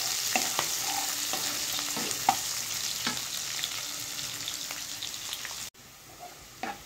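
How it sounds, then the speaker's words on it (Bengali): Onions frying in a pan for masala paneer, a steady soft sizzle broken by repeated scraping stirs of a spatula, close and fairly quiet, with no voices. "পেঁয়াজটাকে একটু লাল লাল করে ভাজতে হবে।"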